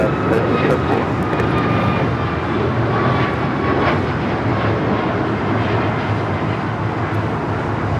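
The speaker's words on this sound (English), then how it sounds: "1374 taking off to Loretto on the MAX 9" An Alaska Airlines 737 MAX 9 takes off at LAX with a loud, continuous jet-engine roar that holds steady throughout, close and powerful.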